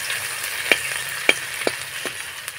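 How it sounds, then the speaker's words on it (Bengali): Dried red chili, green chili and grated ginger sizzle steadily in hot oil as a tempering, with a few sharp scraping stirs of the spatula breaking through the constant frying hiss. "একটু নাড়াচাড়া করে ভেজে নেব ফোড়নটাকে।"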